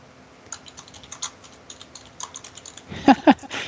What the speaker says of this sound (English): And Saffia is typing too